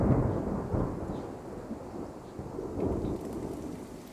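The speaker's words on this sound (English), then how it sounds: "the rain was actually the sound of bacon frying in a frying pan" Thunderstorm sound effect made with bacon frying in a frying pan, a continuous crackling hiss like steady rain with low rumbling swells of thunder, fairly close and with no voices.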